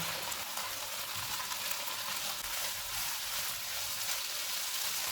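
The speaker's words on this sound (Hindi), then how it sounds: "इसमें 1 बड़े साइज़ का प्याज डालेंगे, 2 सब्ज़ मिर्चें। चूल्हे को लो टू मीडियम कर देते हैं। इनको 3 से 4 मिनट तक भूनेंगे।" A large onion and two green chillies fry in a pan over low-to-medium heat, giving off a steady, even sizzling hiss with no pauses.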